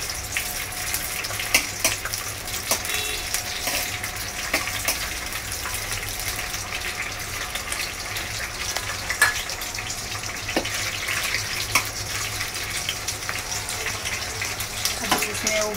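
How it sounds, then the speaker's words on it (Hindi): Green chillies sizzle in about two spoons of hot oil in a pan, a steady hissing crackle with occasional sharper pops running continuously throughout, close and moderately loud. "हरी मिर्च डालेंगे थोड़ा, फ्राई करेंगे।"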